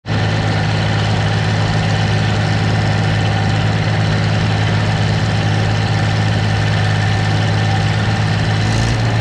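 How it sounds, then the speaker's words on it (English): A tractor engine idles with a steady, heavy low rumble and vibration, loud and close, continuous throughout with no voices. "tractor fired right up"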